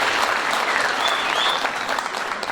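An audience at a cultural association opening claps as the association's president is welcomed to speak, a loud, continuous burst of many hands applauding close by.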